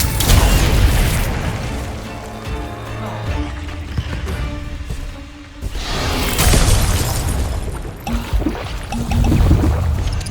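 A Confringo blasting spell goes off in Hogwarts Legacy, with loud booming, shattering bursts and crackling debris that swell, dip briefly, then roar back in heavy waves.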